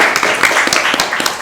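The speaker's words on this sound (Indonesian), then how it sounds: "Boleh kasih tepuk tangannya dulu" Podcast audience applause, a short burst of quick, scattered clapping from a few people, close and loud, with no talk over it.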